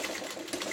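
A sewing machine runs continuously while back stitching through a quilt, a steady close mechanical whir held for under a second with no talking.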